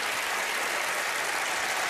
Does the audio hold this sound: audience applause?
yes